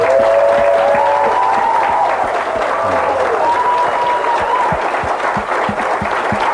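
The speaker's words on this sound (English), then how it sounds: "Applause for Dr. Win Wanger." An audience applauds a guest speaker, loud close clapping from many hands with sharp individual claps standing out, while a voice talks over the start.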